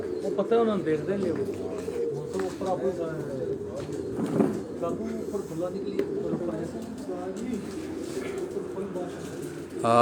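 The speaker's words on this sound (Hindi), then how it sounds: "एक और कबूतर जो है ये नीचे आया हुआ है।" Pigeons coo outdoors in low, rolling repeated calls close by, while people talk over them throughout.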